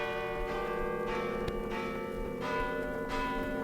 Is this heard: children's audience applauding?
no